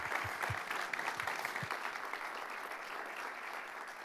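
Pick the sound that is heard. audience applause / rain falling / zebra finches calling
audience applause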